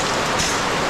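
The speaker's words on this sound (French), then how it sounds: "Il pleut bien, hein." Steady rain falls outdoors in Togo, a dense, even hiss of drops throughout the short stretch, with no voices.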